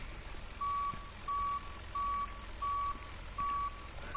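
A first-generation Blue Bird Vision school bus in the Rigs of Rods driving game sounds its backup beeper: a regular series of single tonal beeps, about one every 0.7 seconds, over a low engine hum.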